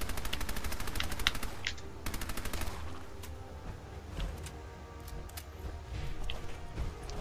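Rapid bursts of automatic gunfire aimed at a legendary feral ghoul in Fallout 4, with dense repeated shots for the first few seconds, then scattered single shots and game effects.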